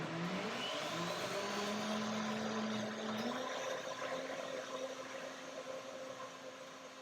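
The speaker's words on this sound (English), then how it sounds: "One more blender dance." A blender whirs steadily while blending a berry, mango and spinach smoothie. The motor pitch rises as the contents break down, then holds a loud, even drone with no speech.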